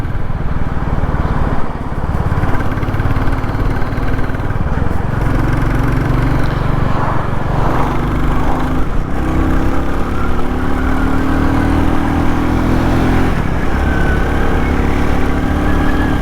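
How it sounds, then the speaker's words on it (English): A Royal Enfield Classic 350 single-cylinder motorcycle accelerates to overtake, its engine droning steadily and winding up in pitch through the gears toward 60 mph, with wind rushing throughout. "with the 350 you have to think about overtaking, but it's winding up to 60 mile an hour"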